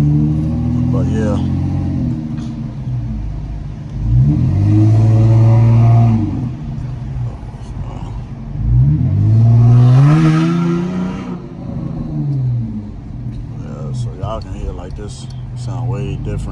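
A 2008 car with a fully catless exhaust revs hard in two loud, rising pulls, with engine idle between bursts and someone talking over it.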